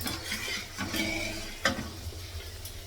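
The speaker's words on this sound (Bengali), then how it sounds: "কড়াইয়ের মধ্যে শুকনো লঙ্কা ছোটো এলাচ বড়ো এলাচগুলো লাগালাম এই তেলটা গরম হয়ে গেছে" Dried red chillies with green and black cardamom fry in hot oil in a wok, a soft, steady sizzle broken by light stirring scrapes and one sharp knock.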